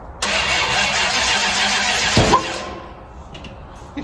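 A 1940 Ford engine cranks and catches on its first start, a loud steady churning that swells briefly near the middle, then drops off into quieter rumbling and faint background noise.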